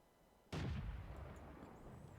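A single heavy artillery blast from a LeFH 18B2 self-propelled gun in World of Tanks booms out suddenly after a near-silent moment, then rumbles away in a long fading tail.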